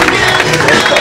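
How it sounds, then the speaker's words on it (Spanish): Crowd at a sewer system inauguration in Chinachla, La Paz, applauding loudly, a dense continuous wash of clapping with no voices standing out. "También para que pedimos un fuerte aplauso."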